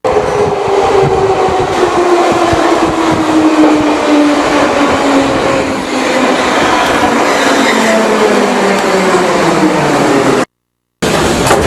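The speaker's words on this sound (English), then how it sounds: "I don't know which way the train's coming from" A Budapest metro train rumbles loudly nearby, its tone sliding downward as it slows into the station, steady and continuous before cutting off abruptly.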